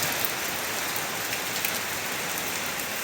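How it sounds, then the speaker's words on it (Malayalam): Steady rain pours down, a dense even hiss of drops on surfaces, constant and close with no voices or other sounds. "എന്തായാലും ഞങ്ങൾക്ക് നല്ലൊരു മഴ കിട്ടി"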